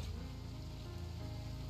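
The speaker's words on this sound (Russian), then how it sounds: "Нет, дождь пошел, снег исчез." Steady hiss of rain falling on surfaces in the video game Project Zomboid, soft and even throughout, with no voices.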